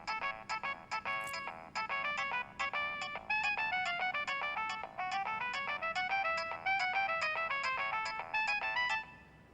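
A mobile phone ringtone plays a bright, repeating electronic melody of quick notes, loud and close, for about nine seconds before stopping.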